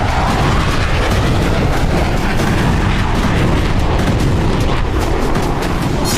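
Loud, continuous roar and rumble from an air strike on a weapons depot near the city of Hama, a dense sustained blast wall of sound with no clear separate booms, steady throughout.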